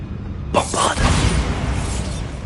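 A Bombarda blasting spell goes off in a wizard video game: a sudden bright burst, then a sustained rumbling, crackling tail that slowly fades.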